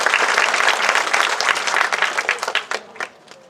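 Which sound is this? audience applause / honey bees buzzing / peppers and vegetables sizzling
audience applause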